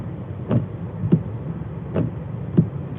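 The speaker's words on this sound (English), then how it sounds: "That noise is just the wiper." A car windshield wiper sweeps back and forth in four evenly spaced soft thumps over a steady engine and road hum, driving through Niagara-on-the-Lake.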